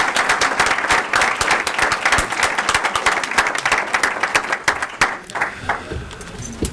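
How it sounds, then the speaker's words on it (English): A crowd applauding steadily at a school board meeting honoring long-serving employees, dense clapping that holds strong and then gradually thins out toward the end. "So how about a big round of applause?"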